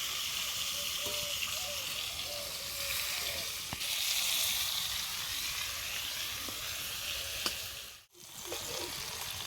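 Egg and pointed gourd frying in oil in a pan, prepared in a rustic village kitchen, giving a steady close sizzle throughout with faint scraping touches and a brief dropout near the end.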